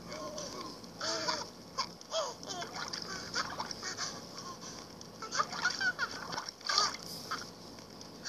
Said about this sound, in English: this little guy is having a bath